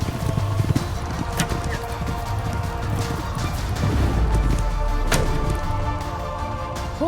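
Horses of Moscow's horse archers in Age of Empires IV clatter in a steady clip-clop of hooves, moderately loud with a busy background, no talk over it.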